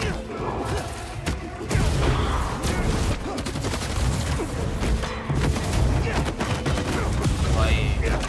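Sustained weapon fire in a Spider-Man 2 PS5 battle: dense volleys of shots mixed with booms and mechanical crashes, loud and unbroken, with a voice now and then underneath.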